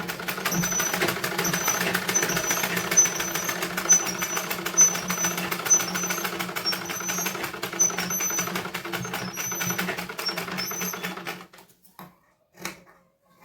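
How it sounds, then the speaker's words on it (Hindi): A sewing machine stitches along the folded edge of a blouse with a fast, even mechanical whir for about eleven seconds, then stops, followed by a few faint clicks and handling sounds. "इसे भी इस तरह से फोल्ड करते हुए सिलाई लगा देते हैं।"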